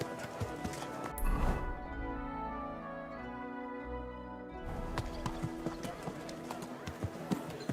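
Horse hooves clip-clop in a medieval Bohemian setting in Kingdom Come: Deliverance II, a steady rhythm of moderately close steps running under a voice, with a brief louder burst of movement early on.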